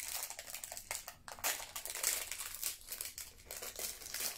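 Plastic packaging of a Tanoshi Me Japanese subscription box crinkling and rustling steadily up close as it is torn open, a continuous dense crackle with brief pauses and no talking.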